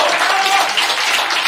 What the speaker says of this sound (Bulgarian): Аплодисменти за него!